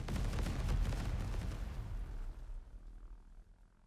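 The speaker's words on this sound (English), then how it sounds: "it's dropping a bunch of very small bombs" A WW1 aircraft drops a string of small bombs in the game Over The Top, producing a rapid cluster of loud booming blasts that roll together and fade into a dying rumble.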